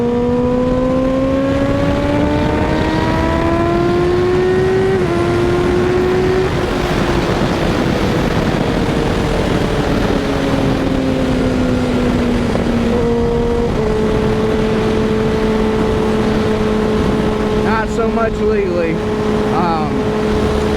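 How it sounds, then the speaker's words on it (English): Kawasaki ZX6R sport motorcycle engine revving loudly through the gears, pitch climbing and dropping between shifts with a steady close roar, wind noise and a voice talking over it. "I like to go up and down through the gears and feel the machine roar"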